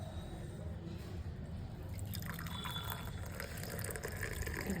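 Brew coffee being poured into two cups in a home kitchen, a steady close liquid trickle with soft splashing and dripping running the whole time over low background hum.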